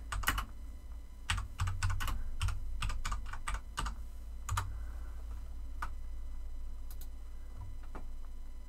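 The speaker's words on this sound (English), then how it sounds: "You guys get to hear my keyboard." Fast bursts of typing on a Cherry MX Red mechanical keyboard, close and clear, with irregular clusters of key clicks separated by short pauses and no voices.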